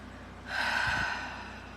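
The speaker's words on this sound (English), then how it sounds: "So some nice deep belly breaths just on that idea." One slow, deep belly breath taken close by, a soft airy rush that swells and fades over about a second in otherwise quiet surroundings.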